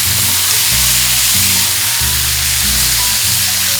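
Lamb chops fry in a hot pan with a loud, dense, continuous sizzle that stays close and steady throughout, accompanied by a low rhythmic hum beneath.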